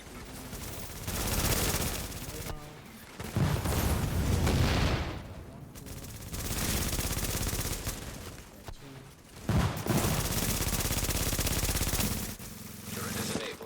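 Bursts of automatic gunfire and heavy firing hit a fortification during a match of the video game The Division, coming in several loud volleys separated by brief lulls.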